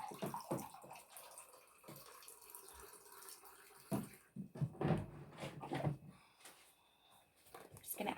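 Spring water is poured in small amounts into homemade pumpkin puree, a faint, close trickle and splash with soft kitchen clinks and bumps, quiet and uneven.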